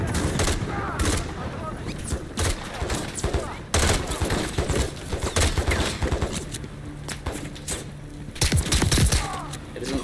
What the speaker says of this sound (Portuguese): Estão atirando em mim por causa que eu tô com o cara